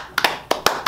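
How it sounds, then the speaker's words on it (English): Someone claps by hand, about five sharp close-up claps at an uneven rhythm in quick succession, alone and fairly quiet. "I stand up and clap my hands"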